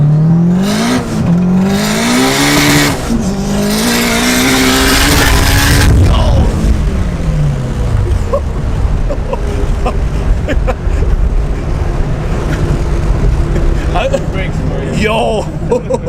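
A boosted K20-swapped Honda Civic EG with Spoon brake calipers, engine loudly revving and pulling hard through the gears from inside the cabin, then dropping off under rushing road noise and rattles.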